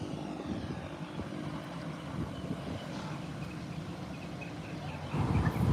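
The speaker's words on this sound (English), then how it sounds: "Another Beechcraft 1900 from Caicos Express is taxiing out." A Beechcraft 1900 turboprop of Caicos Express taxis out at an airport, its propeller engine drone a steady, fairly distant hum that swells louder near the end.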